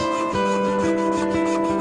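A jeweler's foot-operated fret saw cuts metal for a watch part, rasping in steady repeated strokes, a thin scratchy cutting sound pulsing about twice a second against a constant motor hum.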